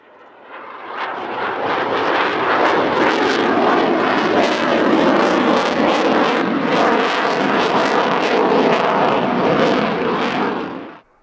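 A Finnish F/A-18 Hornet jet passes at an airshow in Sweden, a loud, sustained roaring rush of engine noise that swells in quickly, holds steady for several seconds, then cuts off abruptly.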